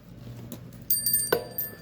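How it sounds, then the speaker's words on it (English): A small metal tap bell is struck once, giving a bright, ringing ding that sustains briefly, preceded by a few soft handling knocks in a quiet room. "You knew I had to hit that bell sooner or later, right?"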